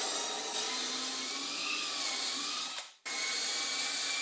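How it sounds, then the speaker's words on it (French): A power drill bores dowel holes into a wooden workpiece with a steady high whine, close and continuous, dipping briefly to a stop near the end before spinning up again. "Maintenant, il me reste à percer les trous pour les chevilles en bas de cette pièce."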